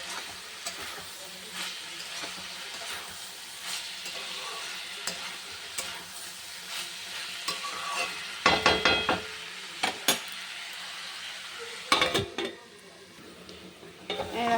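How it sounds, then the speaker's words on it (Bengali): Salted vegetables fry covered in a pan, giving a continuous close sizzle broken by stirring knocks and a few sharp lid or utensil clatters. "দেখো ঢেকে ঢেকে ভাজতে হবে"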